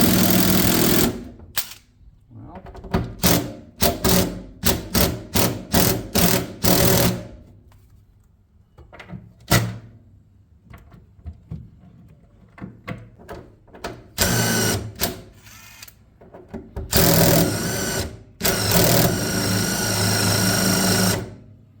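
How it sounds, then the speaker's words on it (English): Pneumatic impact wrench hammering at spinning bolts under an MGB GT barn find, repeated loud close bursts of rapid rattling separated by pauses, then a longer sustained run near the end. "we'll give a couple of these bolts a shot with the impact"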